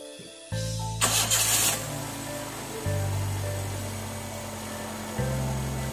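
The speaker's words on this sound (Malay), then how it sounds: "Saya akan start dulu kereta ini, tengok macam mana." A rebuilt 1.3-litre Perodua Myvi engine cranks briefly and fires on the first try, then settles into a steady, loud idle with a couple of small rises in revs, heard close up with no talking.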